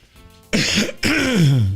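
A person clears their throat with a short cough, two rough bursts close to the mic and followed by a low, drawn-out voiced grunt.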